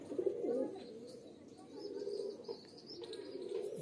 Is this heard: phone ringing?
no